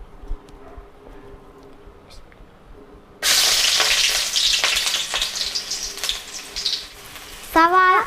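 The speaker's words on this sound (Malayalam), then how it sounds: "എണ്ണ തിളച്ച് കഴിഞ്ഞ് കഴിഞ്ഞാൽ മുറിച്ച് വെച്ച സവാള അതിലേക്കിടാം" Sliced onions hit hot mustard oil with a sudden loud sizzle after a quiet start, then fry in a steady crackling hiss with stirring scrapes, and a voice briefly rises near the end.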